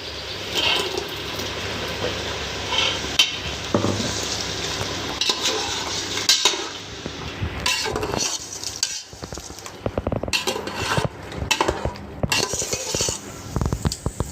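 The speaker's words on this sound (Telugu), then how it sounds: "బాగా అయితే కలుపుకోవాలి." A spoon stirs masala into chicken for biryani in a pan, scraping and clattering against the metal over a steady sizzle, continuous and close with louder knocks toward the end.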